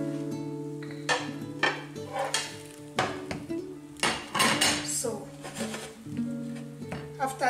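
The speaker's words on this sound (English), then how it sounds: "I will flip it over one more time, because I also push this side in" Homemade Spanish tortilla flipped in a frying pan: a series of sharp pan and utensil clanks and thuds, with scraping and a faint sizzle beneath, over a steady background hum.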